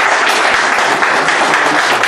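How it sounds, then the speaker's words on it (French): Audience applause at a Malian association's presidential election gathering, a dense, loud, steady wash of many hands clapping without pause. "applaudissez pour notre frère"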